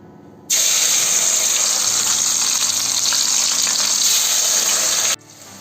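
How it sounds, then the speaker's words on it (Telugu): Bitter gourd (kakarakaya) pieces dropped into hot oil, a loud steady rushing sizzle that starts abruptly, holds evenly for several seconds close up, then cuts off, with no talking. "ఇప్పుడు నూనెలో వేస్తున్నా చూడండి."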